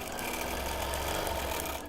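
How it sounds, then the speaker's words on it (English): A quilting sewing machine in need of oil runs steadily at close range, its bobbin area giving off a continuous fast mechanical rattle and whir for the whole stretch, with no voices. "I feel like my machine needs a little more oil. I'm really getting a rattle in the bobbin."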